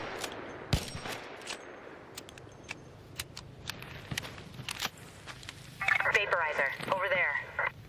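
Sharp gunshots crack intermittently in the video game Arc Raiders, scattered across the clip with quieter impacts between, ending in a louder burst of electronic chirping noise.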